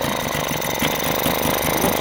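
A Mariner 3.3 hp outboard engine runs after a carburettor strip-down, a close, loud, rapid buzzing rattle with a steady rhythm and no talk.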